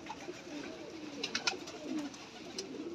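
Soft, low pigeon coos roll continuously in the background, joined by a few brief flutters and scratchy sounds nearby.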